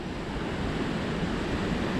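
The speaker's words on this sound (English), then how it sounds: "It's got a lovely breeze." Steady sea breeze and rolling waves wash over a beach in Vlorë, Albania, a continuous close roar of surf and wind with no voices.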